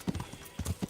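Horse hooves clip-clop in the video game Kingdom Come Deliverance, a few distinct close hoofbeats in an uneven walking rhythm over about a second.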